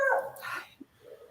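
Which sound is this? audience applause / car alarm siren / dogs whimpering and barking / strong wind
dogs whimpering and barking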